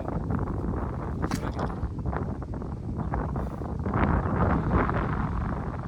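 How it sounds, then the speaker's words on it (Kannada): Strong wind on a hilltop fort buffeting the microphone in continuous loud gusts, a roaring rumble with no voices. "ಆಮೇಲೆ ಗಾಳಿ ಕೂಡ ತುಂಬ"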